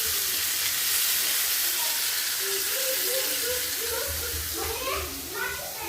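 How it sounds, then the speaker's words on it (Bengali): Water poured into a hot, frying spice mixture for beef curry sets off a loud, steady, broadband hiss of sizzling steam that fades slightly toward the end. "আমি এখানে অল্প একটু পানি দিব।"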